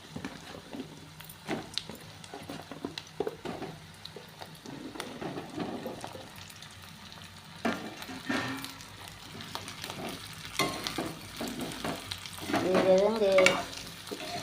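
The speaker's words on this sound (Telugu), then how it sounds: "చాలా బాగా వేగినాక బెండకాయ ముక్కలు వేసేద్దాం" Okra pieces fry in hot oil for a tomato-okra pulusu while a spoon stirs them through the pan, a steady close sizzle broken by scraping strokes that grow louder and busier near the end, with no voices.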